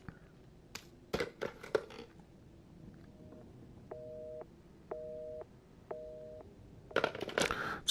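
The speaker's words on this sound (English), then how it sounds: "It makes it really sound like that phone's being put up to your left ear." A telephone in the Resident Evil 7 VR game is picked up with a few clunks and rattles, then three evenly spaced beeping tones like a busy signal play, before more handling noise.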